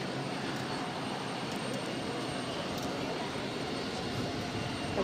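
Airbus A321neo jet at Boston airport, a steady broadband engine roar held at constant loudness throughout, with no voices.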